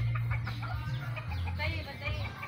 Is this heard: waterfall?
no